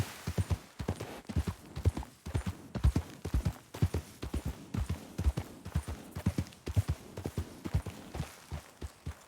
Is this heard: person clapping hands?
no